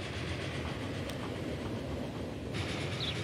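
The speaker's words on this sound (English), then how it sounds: "We're going a little too slow for this train." Passenger train from the Transport Fever 2 game rolling steadily along the line, a continuous rumbling rail noise with faint rhythmic clatter, fairly loud and uninterrupted, no voices.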